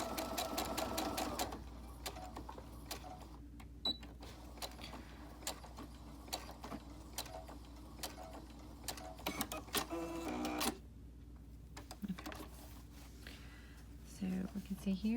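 Sewing machine stitching a fabric mask, starting with a fast burst of stitches, then slower intermittent clicks and thumps from fabric handling, a brief run near the end; a voice speaks quietly underneath.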